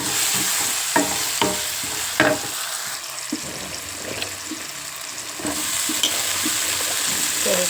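Tomatoes fry in a pan for an eggplant curry, a steady sizzle with several sharp spoon-against-pan stirring knocks early on, close and fairly loud with no talk.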